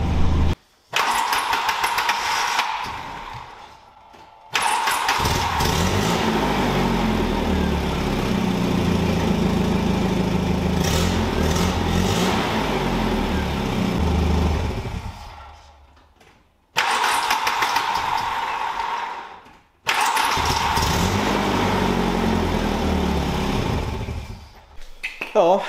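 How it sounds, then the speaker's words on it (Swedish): A Volvo 740 engine cranked repeatedly, each attempt a long whirring starter run with stretches of engine noise broken by short pauses, loud and close, with occasional speech. "Jag ska köra in den så testar vi att starta den igen"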